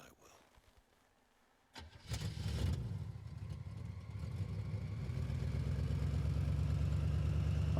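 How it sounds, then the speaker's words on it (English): Old cartoon car engine in the video game Call of Cthulhu sputters and starts after a quiet moment, then settles into a loud, rising, steady rumbling run. "Cartoon old car noises."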